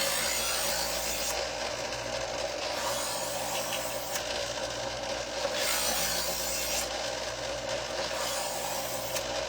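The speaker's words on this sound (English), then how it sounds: "So that setting puts a new edge on the knife." A knife is run through the third stage of an electric knife sharpening machine, putting a new edge on the blade: steady grinding and rasping under a continuous motor hum, with short strokes repeating every couple of seconds.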